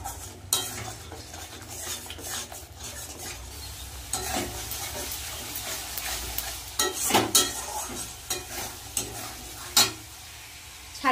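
Spice paste for curry is stirred and fried in a pan, with a constant low sizzle under scraping spoon strokes and occasional sharp clinks of utensil against metal, heard up close.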